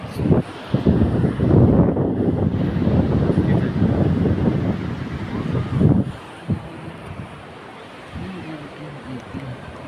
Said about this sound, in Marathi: हा बघा बीच घॉगर बीच